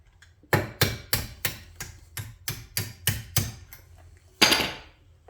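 Metal hammer blows on a seized rear brake pin of a Lexus LS430 ring out in a steady series of about ten sharp strikes, close and evenly paced, followed by a louder final clank.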